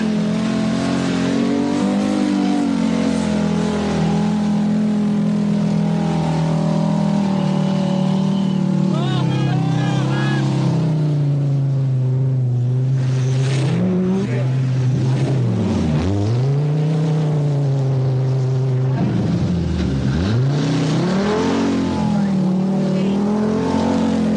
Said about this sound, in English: Arnie Hertz clings on grimly as Mikkola drives to the end of the special stage